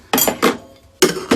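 Metal kitchen utensils clink and clatter as a whisk is pulled from among them while making tomato sauce, a few sharp close knocks in quick succession with brief gaps.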